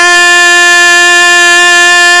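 A trumpet holds a steady G, one clean, loud, sustained brass tone with bright overtones that fills the whole stretch without a break, played alone.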